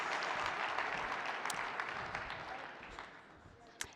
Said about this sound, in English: Everyone give Angela a big round of applause for stepping up.